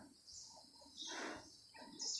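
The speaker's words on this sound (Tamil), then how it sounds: "பறவைகளோட சவுண்டும் இங்கே பார்க்கலாம்." Birds call inside a dense hillside forest with a few chirping and whistling notes rising out of quiet background, moderately faint and spaced apart, with no talk.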